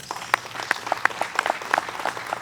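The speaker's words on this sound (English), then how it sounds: "Give them a round of applause." Sparse, scattered applause from an audience at a Native American night event, a modest number of individual claps at an irregular pace, moderately distant and fairly quiet.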